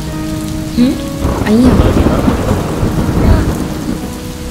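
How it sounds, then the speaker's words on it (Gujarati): Heavy rain pours steadily while deep thunder rumbles through the middle, loud and close, with a single brief word spoken and faint tonal sounds underneath. "વરસાદ ચાલુ થયો"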